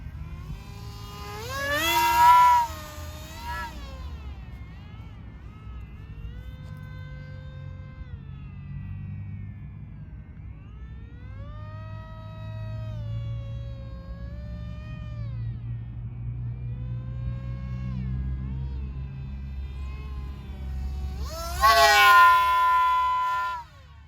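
A Goblin RC helicopter on a 4S 1500 setup makes fast low passes, its rotor whine rising loud and close at the start and end while a steadier, fainter pitched drone with shifting harmonics holds in between.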